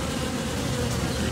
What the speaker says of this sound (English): there's a lot of bees on there. Shake some off.